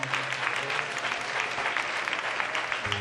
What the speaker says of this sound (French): Est-ce que vous voulez applaudir mon Dieu une autre fois?